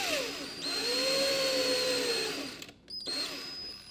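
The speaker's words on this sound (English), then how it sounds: "you don't want to go too far with your drill bit because it's just going to end up on the other side of your table" A power drill whirs steadily while boring pilot holes into the underside of a wooden table, a sustained close whine that drops and cuts out briefly near the end before spinning up again.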